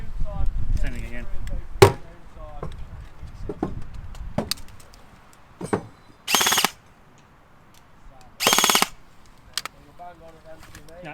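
An airsoft AEG rifle loaded with heavy BBs fires short, sharp bursts and single cracks separated by pauses, with sputtering, stop-start shots as the BBs jam in the feed, and someone talking between them.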